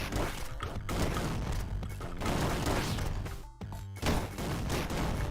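Gunboots in Downwell blasting downward in a dense, loud volley of rapid game shots lasting the whole stretch, with a brief lull near the end before the firing resumes.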